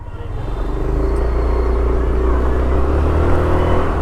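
An Audi car drives away, a steady low engine rumble holding at even strength throughout, close and continuous with no talk over it.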